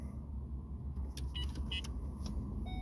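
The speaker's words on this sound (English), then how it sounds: "turn on the car." A car engine hums steadily at close range, with faint electronic beeps and clicks from the dashboard as the system powers on.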